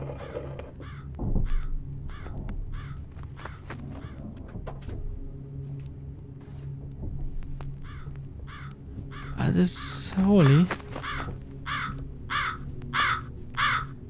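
A crow caws repeatedly in the horror game Jisatsu, sounding as a steady series of harsh, evenly spaced calls that grow louder and denser toward the end, with someone talking briefly and a louder creaking disturbance in the middle.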